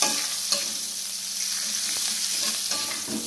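Red chilies and lime leaves fry in hot oil with a dense, steady sizzle while a spatula stirs them, making a few soft scraping knocks, close and without speech.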